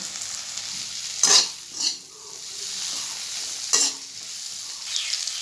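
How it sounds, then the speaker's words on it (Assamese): Drumsticks and potatoes frying in a spice mix, a steady close sizzle broken by a few loud scraping stirs of a spoon through the pan. "মছলাখিনি ভাজি হ'লে তাত সজিনা আৰু আলুখিনি দি দিব, দি ভালদৰে লৰাই দিব"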